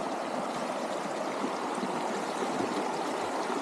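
A woodland stream rushes steadily over rocks, a constant close-up broadband wash of flowing water with no pauses or voices.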